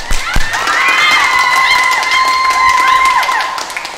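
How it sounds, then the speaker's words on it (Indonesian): Parishioners at a Christmas Eucharist Mass applaud the young people, a crowd of clapping hands running steadily under a loud, sustained tonal sound with shifting pitch that dominates the texture. "Tepuk tangan buat mereka juga."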